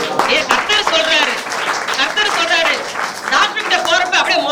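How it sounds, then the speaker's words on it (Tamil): Applause from a church congregation during a Tamil sermon, scattered clapping mixed with voices and a speaker talking over it, lively and close. "கைத்தட்டலாங்க."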